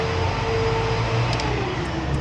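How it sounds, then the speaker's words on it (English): A car wash vacuum cleaning a 2021 Toyota Supra, a continuous low mechanical roar with a droning hum, steady and close, running without pause. "Time to vacuum."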